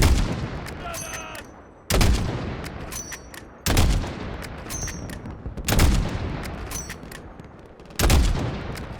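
Repeated loud bursts of gunfire in Modern Warfare 2019 with booming impacts, about every two seconds, over a constant battle din and faint shouted Polish voices on a highway.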